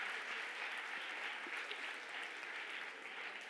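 Steady applause from a theatre audience during a live monologue performance, a dense wash of clapping heard quietly and evenly from a distance.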